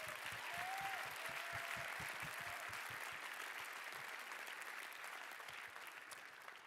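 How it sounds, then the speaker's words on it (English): A round of applause rises from the audience at an evening business pitch competition, many hands clapping steadily at moderate distance before slowly thinning and fading toward the end. "Let's give them a round of applause"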